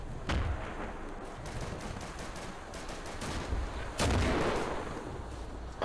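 Close artillery fire in Darkest Hour, a Battle of the Bulge combat game: heavy booming blasts, the loudest two near the start and end, with rattling gunfire and rumble between them.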